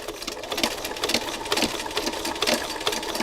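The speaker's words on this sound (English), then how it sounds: "and I'm zigzagging over it. So the zigzag stitching is going to be a part of the design edge." A sewing machine runs in quick rhythmic bursts, its needle chattering as it zigzag-stitches over fabric laid on top of another piece, close and fairly loud.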